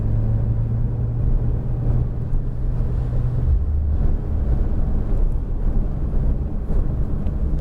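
A Porsche GT3 RS engine hums at low throttle on a racetrack, a steady close-up rumble with a deep droning tone throughout and no sharp revving.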